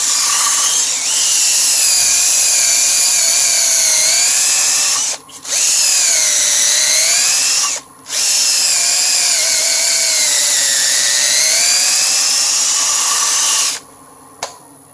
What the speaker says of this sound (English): I'll turn the lathe on. And I'll sand it out just like that.